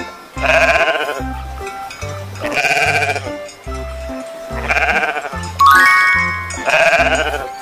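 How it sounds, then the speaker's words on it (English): Sheep bleating for a livestock sound lesson: five loud, wavering bleats in a steady rhythm, each about a second long with short gaps between. "Sheep."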